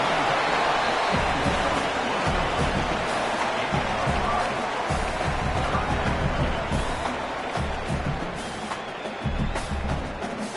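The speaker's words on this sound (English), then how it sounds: "the noise from this crowd on 3rd and 4" Roaring stadium crowd at a college football game between UConn and Washington State, loud and continuous with no pauses.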